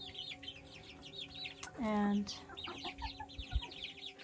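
Chickens on a farm cluck quietly amid morning chores, with one louder drawn-out squawk in the middle and faint bird chirps around, under brief speech.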